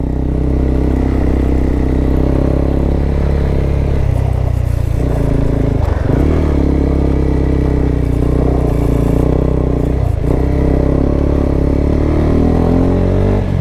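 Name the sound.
motorcycle riding on road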